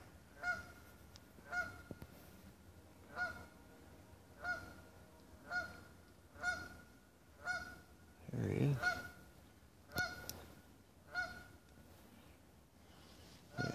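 A goose near a pond and dam honks repeatedly in a steady rhythm, loud and fairly close, with a brief spoken remark and some rustling in between.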